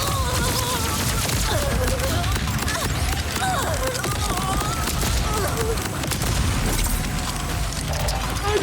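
Spread launcher weapon firing in Borderlands 4, a dense, continuous barrage of blasts and mechanical clatter layered with game music and effects throughout, with voices talking over the combat.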